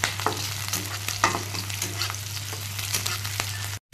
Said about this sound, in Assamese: এতিয়া কেঁচা জলকীয়া কাটি ইয়াত দি দিছোঁ।